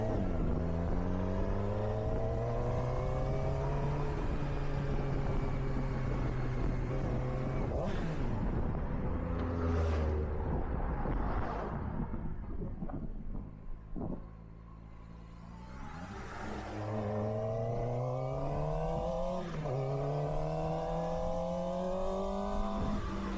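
A 2026 QJ Motor SRK 450 motorcycle engine revving repeatedly, its pitch climbing and falling in close, loud sweeps with a brief drop toward idle midway.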